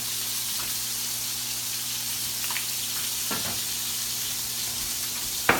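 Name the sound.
potato pancakes (latkes) frying in a pan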